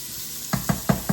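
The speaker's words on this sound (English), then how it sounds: "What I'm doing here is just flash frying this" Four short bursts of sizzling spit from a hot pan at quick, even intervals, over a quiet steady background hiss.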